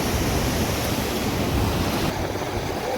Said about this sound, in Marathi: इथे जोर आहे रे पाण्याला.